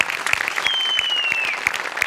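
Studio audience at a comedy show clapping together, a dense steady burst of applause close by, with a thin whistle cutting through.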